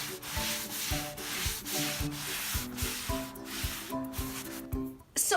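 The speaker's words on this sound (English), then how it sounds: "It's buffing time." Rhythmic rubbing strokes of a cloth or pad buffing a fresh finish on an old wooden table being turned into a nightstand, repeating back-and-forth swipes at a steady pace, close and moderately loud, with a muffled knock at the end.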